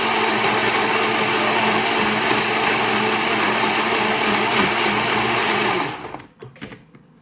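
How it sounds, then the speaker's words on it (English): A blender pulverizes walnuts for a milkshake smoothie, a loud, dense, steady motor whir with gritty grinding that runs continuously for several seconds before cutting off abruptly, leaving a few faint clunks. "It's the walnuts that's like pounding away."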